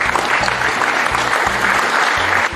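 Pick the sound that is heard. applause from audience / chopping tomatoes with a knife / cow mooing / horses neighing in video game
applause from audience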